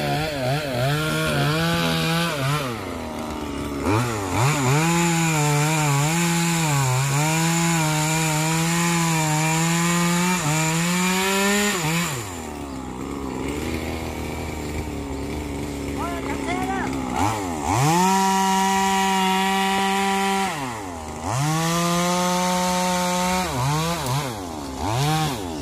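A chainsaw cuts through eucalyptus trees, its engine rising into long, loud whining pulls that dip and return several times, close by, while someone talks over the cutting.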